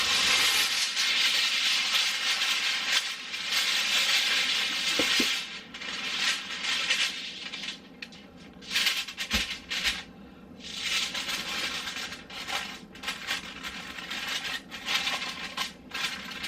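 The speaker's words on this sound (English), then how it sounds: "Alright, so I'm going to put some regular foil on it." Regular aluminum foil being crinkled and wrapped tightly over a freezer meal, a steady close crackling and rustling that runs throughout with brief pauses and a few sharper crinkles.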